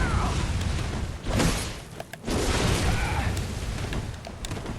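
Gunshots from an enemy hunter in the video game Bloodborne, a few sharp booming blasts scattered over a dense, noisy game backdrop, with a brief dip in the middle.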